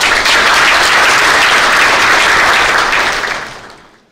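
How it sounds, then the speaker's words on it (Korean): Loud, dense audience applause at the opening ceremony of a training course, sustained and close before tapering off into silence at the end. "큰 박수 해주시기 바랍니다."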